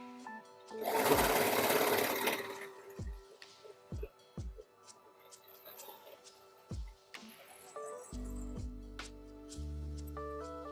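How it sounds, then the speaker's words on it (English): A serger running along denim jacket seams: one loud, close burst of whirring stitching near the start, then scattered thumps and handling noises, with a voice heard and tonal sounds toward the end. "I put this serger through enough."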